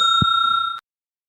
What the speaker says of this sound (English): You get the bell.